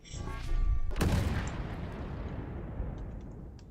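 Spell explosions in a Roblox magic game, a loud booming blast with crackling debris that fades into a long rumbling tail, close and alone.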